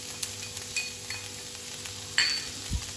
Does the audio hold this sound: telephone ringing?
no